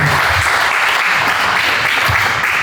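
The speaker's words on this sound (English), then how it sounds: "let's give them a round of applause as well" Loud, close audience applause at a community celebration for a historic school, a thick, unbroken roar of many hands clapping at once, steady in volume from start to finish.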